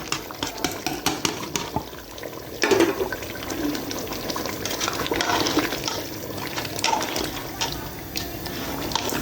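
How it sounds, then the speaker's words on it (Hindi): Water pours into a pot of beef dagi korma with browned crushed onions, a sloshing, splashing stream with bubbling surges, moderately close and steady. "अब हम इसमें शामिल करेंगे थोड़ा सा पानी।"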